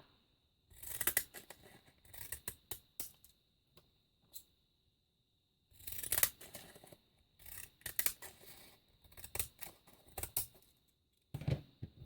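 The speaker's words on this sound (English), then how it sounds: "making more little strips of paper" Scissors snip little strips of paper at close range in a quiet room, with bursts of rapid crisp cuts separated by short pauses and a few isolated single snips.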